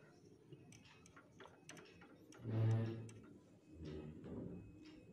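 A sewing machine runs slowly as the pedal is pressed and the wheel turned by hand, giving faint, irregular mechanical ticks and clicks with a brief louder thump partway through.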